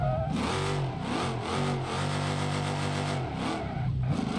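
A 200BX car drifting in BeamNG.drive, its engine revving and droning continuously with rising and falling pitch as it slides through a corner, loud and close with no talking.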